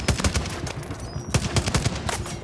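Gunfire in The Division Resurgence video game rings out as rapid bursts of shots in two clusters separated by a brief lull, punchy and close with a dense rattling texture.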